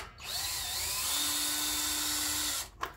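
A power drill bores a 1/2 inch hole through a guitar body, a steady close whine lasting nearly three seconds before it stops abruptly, with no talking.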